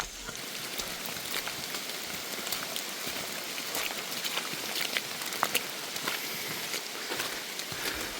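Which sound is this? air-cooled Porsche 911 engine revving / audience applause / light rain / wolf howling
light rain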